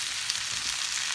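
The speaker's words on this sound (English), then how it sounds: "we're going to add some spring onion, and we're just going to saute that off a bit until it wilts" Spring onion with coriander and mint sautéing in a pan for a plant-based breakfast, a steady close sizzle with no talk.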